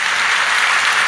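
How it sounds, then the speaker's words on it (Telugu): Church congregation applauding in a thick, loud, continuous burst of clapping that fills the brief moment without pause. "చప్పట్లు కొట్టి దేవుని మహిమపరచు గట్టిగా హల్లెలూయా"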